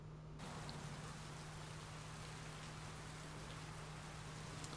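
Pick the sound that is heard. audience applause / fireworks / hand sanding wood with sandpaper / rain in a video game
rain in a video game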